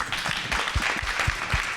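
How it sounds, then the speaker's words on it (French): Brief applause from attendees closing a round table on youth employment at a Val d'Europe job fair, a short patter of scattered clapping at moderate distance, fairly soft. "je crois que tout le monde peut t'applaudir"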